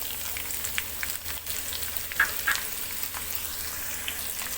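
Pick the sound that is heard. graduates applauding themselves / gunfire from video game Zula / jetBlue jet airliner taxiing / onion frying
onion frying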